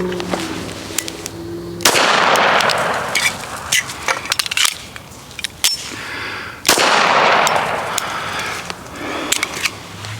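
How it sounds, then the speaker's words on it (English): Live-fire gunshots on a range, with two loud, sharp reports that echo and decay, plus scattered clicks and handling knocks between them and no talk. "if you're going to get out and fire a round, make it count on a target"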